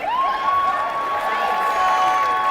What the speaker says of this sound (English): that gets a little cheer from the Max faithful who made the trip out here to Stockton